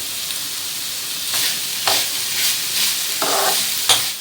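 Chopped vegetables fry in a pan over raised heat for a homemade pancake pizza, a steady close sizzle with several distinct stirring scrapes spaced about half a second apart.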